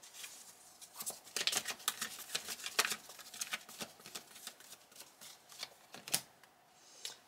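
Tarot cards being shuffled close up, a quiet run of soft riffling flutters and taps repeating irregularly over several seconds, with no talking.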